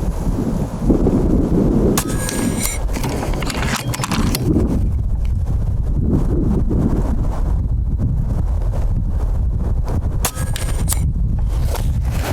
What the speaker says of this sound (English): Wind really picked up on that last one